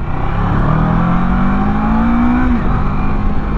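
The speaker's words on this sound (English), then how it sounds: "You can probably hear the engine sound underneath me, the exhaust note underneath me." Motorcycle engine and exhaust note cruising at about 50 mph, a steady loud drone with wind rush and a slowly rising tone that drops briefly near the end, heard from the rider's position.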